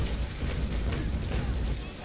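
A ship's cannon broadside fires in the naval combat game Naval Action, a dense, rumbling volley of booming shots merging into continuous low thunder that stays loud and close for about two seconds.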